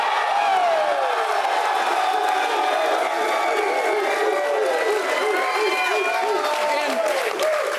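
A studio audience at a live sports talk show cheers, whoops and applauds loudly throughout, a dense crowd roar with rising shouts layered over continuous clapping.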